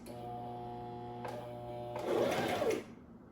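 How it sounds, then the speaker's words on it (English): A sewing machine hums briefly, then stitches a short, quick burst of a few stitches before stopping, close by. "So when you start sewing, you sew like 3 stitches like this."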